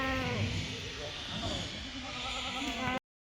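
Kathiawari goats bleat at a livestock market, several calls overlapping close by for about three seconds, then a short silence at the end.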